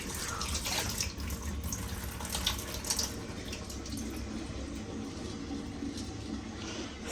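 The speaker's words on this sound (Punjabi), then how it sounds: "ਹੁਣ ਇਹਦੇ ਵਿੱਚ ਮੈਂ ਸਾਫ਼ ਪਾਣੀ ਭਰੂੰਗੀ" Steady rush of tap water running into a container at a sink indoors, continuous and fairly loud throughout with slight splashing changes, no talking.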